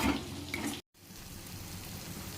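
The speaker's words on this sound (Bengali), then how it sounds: "ভাজা মশলার গুঁড়ো দিয়ে মশলাটা কষিয়ে নিচ্ছি" Spice paste of tomato, Kashmiri chilli powder, turmeric, coriander, cumin and roasted spice powder frying in oil in a pan, giving a steady close sizzle that cuts out briefly partway through.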